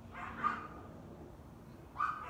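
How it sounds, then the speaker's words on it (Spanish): A dog barks indoors in two separate short bursts, moderately distant and fairly faint, with quiet room tone between them. "Lo lamento por los ladridos"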